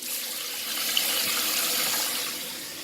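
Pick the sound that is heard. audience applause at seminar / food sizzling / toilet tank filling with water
toilet tank filling with water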